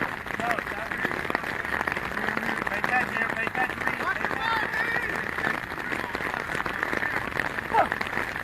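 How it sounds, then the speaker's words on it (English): Hard rain pours down at an outdoor flag football league game, a steady dense hiss lasting throughout while a voice talks over it. "his rain is getting a lot harder right now"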